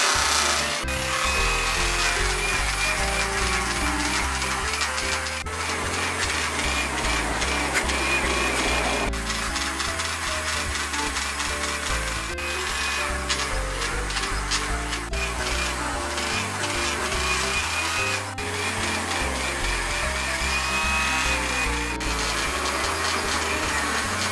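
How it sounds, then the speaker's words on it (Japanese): Okatsune pruning shears are buffed with blue polishing compound on a spinning buffing wheel, a steady whirring grind with rubbing friction and slight variations as the blade is worked against the wheel for the full stretch. "これバフがけする用の青棒っていう研磨剤なんで、ほとんどその刃を削るっていうことはないですね"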